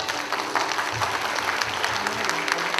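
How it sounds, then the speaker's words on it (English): An audience at a Buddhist conference opening ceremony in Malaysia claps for the honored guests, producing dense, sustained applause from a large crowd with some faint voices mixed in. "a big round of applause for all our honorable guests"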